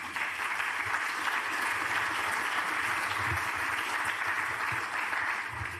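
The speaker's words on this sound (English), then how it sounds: "I think we can applaud on this." Steady, sustained clapping from a large conference audience, even and continuous throughout with no talking.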